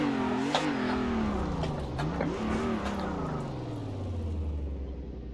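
A car engine in a driving simulator game revs while drifting, its pitch wavering up and down before sliding into a lower, steady drone, loud and alone.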